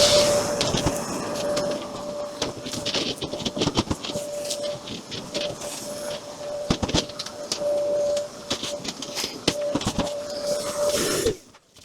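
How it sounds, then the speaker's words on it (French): A vacuum cleaner runs steadily with a constant whine and hiss, cleaning a painted plate, with scattered clicks and knocks as debris is sucked up, then cuts off abruptly at the end. "un bon vieux coup d'aspirateur"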